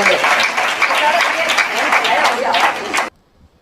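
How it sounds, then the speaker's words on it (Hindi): Loud, dense applause from an audience at a Hindi comedy poetry gathering, steady clapping for about three seconds before cutting off abruptly into near silence. "जोरदार तालियां।"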